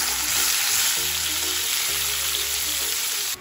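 Tomatoes frying in hot oil for mole, a close, steady crackling sizzle with occasional stirring scrapes, no voices.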